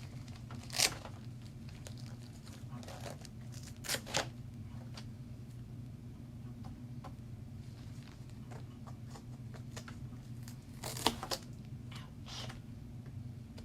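A wet felted lattice scarf is unwrapped. Quiet, sporadic rustling and short peeling, tearing bursts stand out against a faint low background hum.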